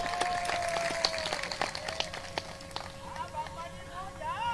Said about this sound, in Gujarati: આ વધાવવાનું તાળીઓથી વધાવો.